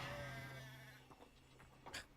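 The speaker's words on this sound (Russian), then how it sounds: "Летающие козы." Flying goats in the video game Hogwarts Legacy bleat: a long, sustained, quavering call at the start, fading out, then a few short, faint bleats and clicks follow.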